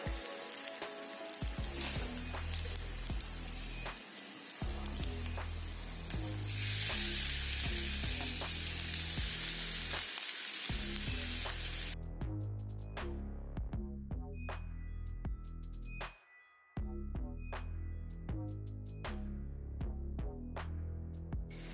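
Grated raw mango frying in oil in a pan for mango rice, a continuous close sizzle broken by brief pauses, with occasional soft clinks and stirring scrapes throughout.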